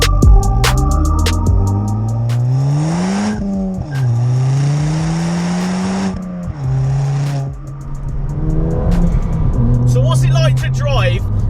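A stage 2 Ford Fiesta ST Mk7 tuned to 260 bhp, driven hard on country B roads, with its loud, close engine revving up through the gears with audible shifts and drops in pitch.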